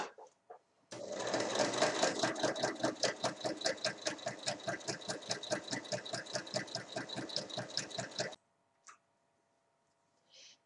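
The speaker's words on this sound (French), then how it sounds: "je viens piquer tout du long ici" Sewing machine stitching the length of a folded fabric edge for bag handles, running in a steady rapid rhythmic chatter for about seven seconds, then stopping, followed by a couple of faint clicks.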